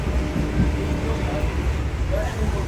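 Inside an almost empty evening local train, a continuous loud low rumble of wheels and carriage fills the space while people talk over it.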